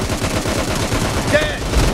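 Gunfire in the PUBG video game: a loud, steady burst of rapid automatic shots rattling through the whole moment, close and dense.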